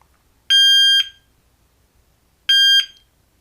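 Two loud electronic beeps from a shot timer, a start beep and a par-time beep, each about half a second long, spaced two seconds apart with near silence between them.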